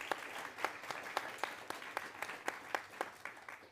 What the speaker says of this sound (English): So give it up for Governor Sebelius for being here